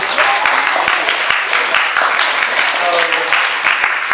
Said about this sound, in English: Can I get a round of applause for everyone?